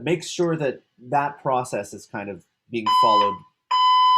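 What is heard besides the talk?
smoke detector fire alarm beeping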